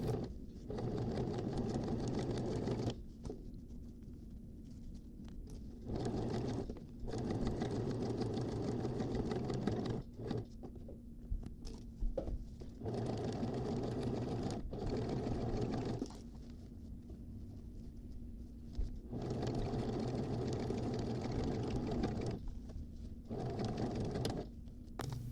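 A sewing machine top-stitches a seam on a fabric tote bag, running in long steady bursts with several short pauses between runs, close and fairly loud with no talking.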